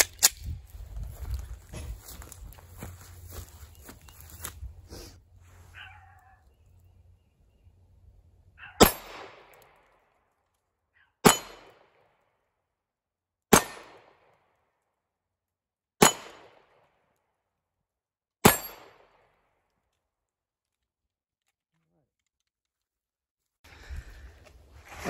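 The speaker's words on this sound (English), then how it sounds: "just gonna shoot 5 at metal targets" Five sharp Walther Creed pistol shots fired at metal targets outdoors, each a loud crack spaced a couple of seconds apart with brief ringing, after a stretch of quieter handling noise.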